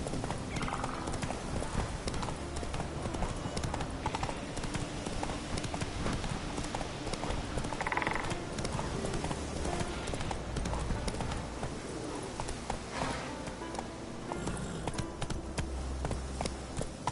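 A horse gallops in The Witcher 3, its steady rapid hoofbeats clip-clopping close and loud throughout, with a brief whinny partway through.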